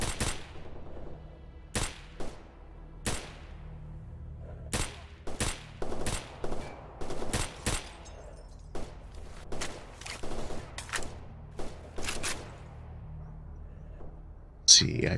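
Scattered gunshots crack through a firefight in the Stalker Anomaly game, some single and some in quick pairs, sharp and fairly close over a low ambient rumble, with a voice talking now and then.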